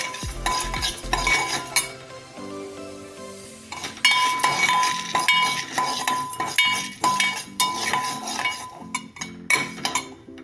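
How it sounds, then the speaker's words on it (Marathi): Whole spices, garlic cloves and green chillies dry-roasting in a metal pan for mattar paneer, with steady stirring scrapes and frequent clinks of a spoon against the pan, close and fairly loud, with no talking. "बरं, आपण जे खडे मसाले आहेत ते भाजून घेऊ."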